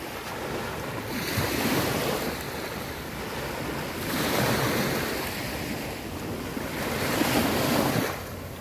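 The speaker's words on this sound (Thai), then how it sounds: "คลื่นมันนิ่งดีเนาะคลื่นมันนิ่งดีนะครับผม" Sea waves at Nam Rin beach, Rayong, Thailand, washing ashore in steady broad surges about every three seconds, mixed with constant wind buffeting the microphone; no voices.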